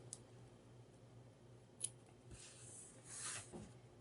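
Scissors snipping off twine tails on a handmade mini album: a few quiet, separate snips and crisp blade clicks spaced apart in an otherwise quiet room.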